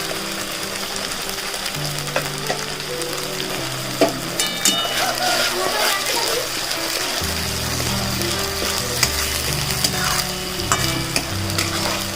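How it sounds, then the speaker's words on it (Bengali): Kasundi spice mix for chicken sizzles and fries in a pan while a utensil stirs and scrapes steadily, with no voices. "আমি এবারে মশলাটা ভালো করে মিশিয়ে নেব।"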